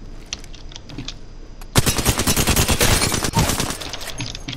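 Alternator submachine gun in Apex Legends fires a dense, loud sustained burst of rapid shots lasting about two seconds, preceded by quieter scattered game sounds and followed by fading ambience.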